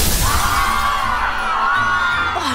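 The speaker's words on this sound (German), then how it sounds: "Gleich kommt die große Explosion." A loud bang bursts out at the start, followed by a rising whooshing tone and excited shouting and cheering from a crowd.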